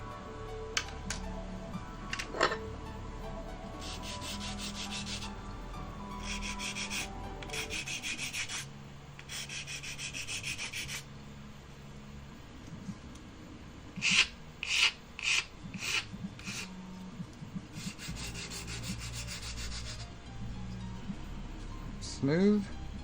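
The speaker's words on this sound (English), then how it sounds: "clean it up with the file" A metal housing on a build project being cleaned up with a hand file, with repeated close rasping strokes and light ticks and clinks, while someone talks over part of it.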